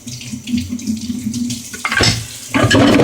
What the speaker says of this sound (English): I always make sure I wash my cutting board.